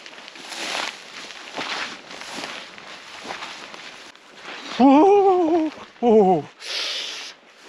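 Footsteps squelch and slosh through wet, boggy Scottish moorland, soft rhythmic thuds with brief breathy sounds between, followed by a short voiced exclamation or grunt.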